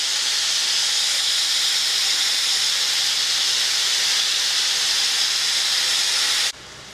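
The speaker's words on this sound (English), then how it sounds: "that sausage is just sizzling" Sausage sizzling in a pan while cooking and browning for New Orleans-style red beans and rice, a loud, steady, broadband hiss that cuts off abruptly near the end, no voices.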